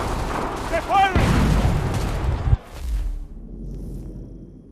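Cannon fire in the video game Assassin's Creed III: a heavy, rumbling blast that roars for over a second before cutting off abruptly, followed by a lower, fading rumble, with a brief shouted voice just before the blast.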